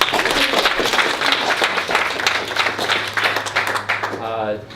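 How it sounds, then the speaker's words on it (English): Audience applause and clapping fill the whole stretch, loud and steady with dense overlapping claps, fading slightly near the end under a rising voice. "Clap it up for him real quick"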